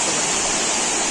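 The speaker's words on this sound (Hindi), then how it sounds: "यहाँ से झरने का मजा नीचे लेने जा रहे हैं।" A waterfall in a forest setting, a loud, dense, continuous rushing roar of falling water, close by and with nothing else audible.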